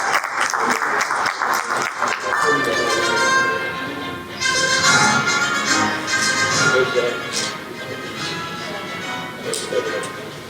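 An audience at the Oman Leadership Awards 2023 ceremony applauds an honoree; dense, loud clapping fills the room throughout, with voices heard over parts of it.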